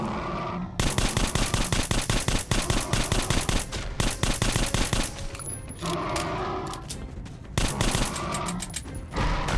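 Rapid automatic gunfire from the video game Metro: Last Light Redux, loud and close, rattling in long dense bursts with short pauses between, a brief break near the middle before firing resumes.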